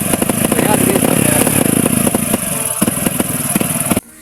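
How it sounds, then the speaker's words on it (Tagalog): Misfiring motorcycle engine running loud and close with an uneven, stuttering chug and clattering pulses, then cutting out abruptly near the end. "Kapag palyado mga kaibigan ng motor nyo"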